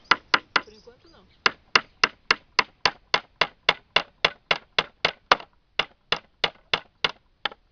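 Sharp hammer blows strike wood in a steady series of about two dozen evenly spaced hits, with a short pause near the start, close and loud with no talk.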